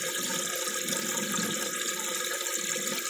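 Water circulating through an aquaponics fish tank and releasing tiny micro bubbles, a steady close wash of fizzing and trickling with no pauses and no voices.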